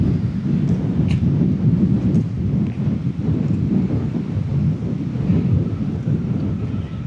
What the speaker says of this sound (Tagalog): Yan na naman yung ulan.